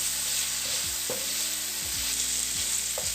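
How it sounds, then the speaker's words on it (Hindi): Chicken with black pepper and vinegar cooks over a medium-low flame, giving a steady, even sizzle throughout with a few faint tonal clinks of a utensil against the pan. "मीडियम टू लो आंच पे इसे पकाएंगे।"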